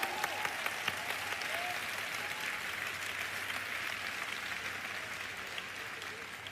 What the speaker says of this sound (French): Come on, give yourself a big hand. Applaudissez-vous.